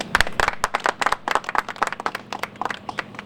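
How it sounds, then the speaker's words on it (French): An audience at a customs officers' mess event applauds in a lively burst of individual hand claps, close and steady for a few seconds with no talk over it. "je voudrais que vous puissiez applaudir le commandant Mohamed Coulibaly"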